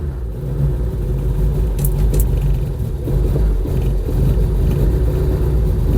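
A classic Ford Escort with a 3-speed gearbox runs just after starting, its engine rumbling steadily and close by with a low, continuous drone and slight surges in level, with no talking over it.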